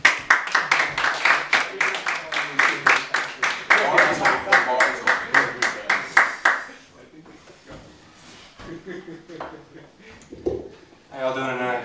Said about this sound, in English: Let's give a round of applause for the very funny, very talented Charles Coburn.